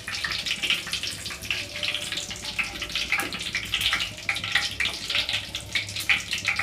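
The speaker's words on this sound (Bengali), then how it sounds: "এবার ওর মধ্যে দিয়ে দিচ্ছি আমি তেজপাতা। তেজপাতাটা একটু ফ্রাই করে নেব" A bay leaf fries in hot ghee and oil for a Bengali Moghlai chicken, giving a steady close crackling sizzle with small pops throughout.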